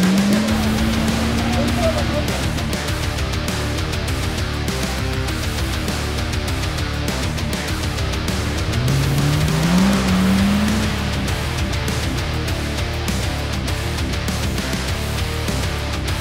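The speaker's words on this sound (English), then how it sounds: "We're gonna be riding in these Polaris Razor vehicles" A Polaris RZR off-road vehicle ride heard from on board, a steady loud engine drone with tires squealing and skidding through turns, continuous throughout with talk in the background.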